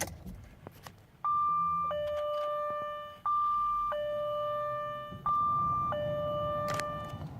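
Dashboard chimes of a 2004 Jaguar XJ8 Vanden Plas as the ignition is switched on to enter engineering test mode, a series of steady two-tone electronic beeps, each held about two seconds, loud and close over faint cabin noise.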